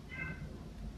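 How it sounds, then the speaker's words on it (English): A single short, faint cat meow comes from somewhere indoors over a quiet, low background hum. "that's the cat meowing"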